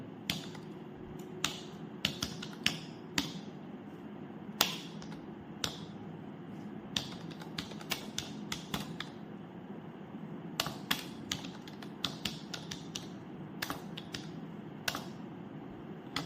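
Computer keyboard keys tapped to type a government college name into a search field, irregular clusters of close, crisp clicks over a steady low room hum.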